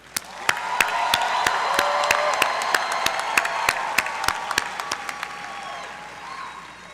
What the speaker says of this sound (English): please join me in giving a round of applause to all of our